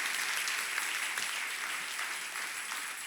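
Church congregation clapping at a women's retreat service, a steady, even wash of applause lasting a few seconds, fairly faint and without voices.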